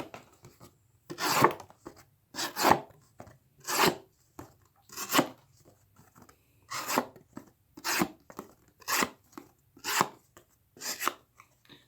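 A Camillus Choff blade chops through cardboard in about a dozen separate, evenly spaced strikes, each a close, dry rasping crunch with quiet pauses between them.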